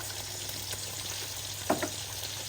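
Spiced curry with turmeric, cumin and coriander sizzles steadily in a pan, a brief soft thump and splash marking chopped tomato dropped in, then frying continues alone at moderate level.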